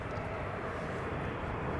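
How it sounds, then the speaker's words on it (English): Large wide-body airliners arriving at Amsterdam Schiphol Airport produce a steady, broad low roar of jet engines, rumbling continuously with no talk over it. "Poor us, having to deal with all those noisy big airplanes."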